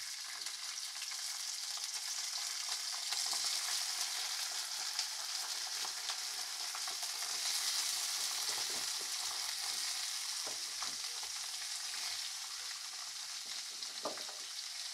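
Mixed vegetables for a home-style santula fry in hot oil, producing a continuous, even hiss with occasional small crackles and pops toward the end, moderately close and without talk.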